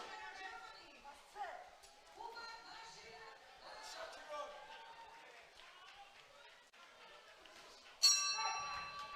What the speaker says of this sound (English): So there goes the bell at the end of the third and final round, and Akbar celebrates as well